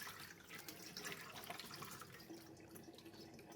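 Tap water runs into a sink while squid is rinsed under it, a steady soft splash and trickle with light drips, faint and close, with no voices.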